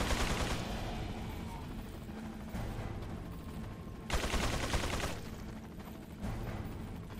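Enemy gunfire in Resident Evil 4 on PC sounds as a steady stream of muffled shots and bursts, with sharper volleys around the middle and near the end, fairly quiet overall and without speech.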